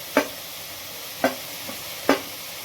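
Chopped vegetables stirred in a hot pan for egg pasta, a spatula scraping in three distinct strokes about a second apart, close and clear over a faint steady background hiss with no talking.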